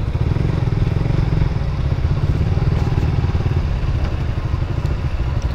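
A 400 cc motorized one-wheel vehicle's engine running steadily up close, a loud low rapid putter throughout.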